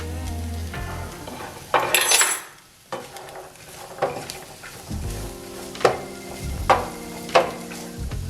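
A utensil scrapes and clinks against a pan of frying shepherd's pie filling on a stove at medium heat, several distinct stirring strokes over a steady soft sizzle, with no talking.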